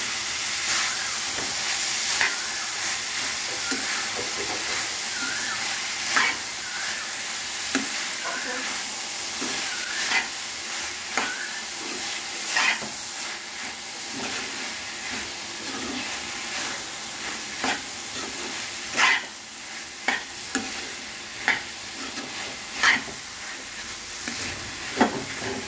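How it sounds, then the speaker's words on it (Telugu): Tamarind leaves frying in a pan over a low flame, a steady soft sizzle and hiss with scattered scraping clicks of stirring throughout. "చింతకూర పచ్చిపోయే వరకు మనం లో ఫ్లేమ్లో పెట్టుకుని స్టవ్ని"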